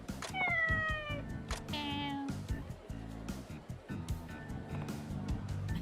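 A cat lets out two distinct meows, the first drawn out and the second shorter and higher, amid background chatter and street noise.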